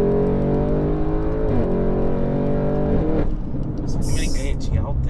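Audi RS6 2021 with PitStopShop tuning and 8-speed gearbox accelerating hard, its engine note climbing steadily through the revs with a shift and rising again, loud and close inside the cabin under a voice.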